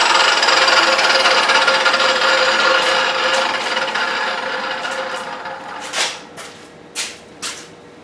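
An Evolution EVOSAW380 saw cuts aluminum with a loud, high whining grind that gradually winds down, followed by a few scraping clatters.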